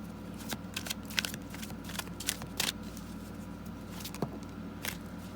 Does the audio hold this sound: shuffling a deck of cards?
yes